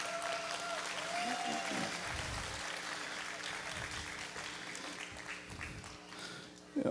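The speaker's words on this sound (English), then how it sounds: "Let's give this young lady a round of applause," Applause for a young exhibitor at a goat show ring, a steady wash of clapping from the crowd that holds for several seconds, with some voices underneath.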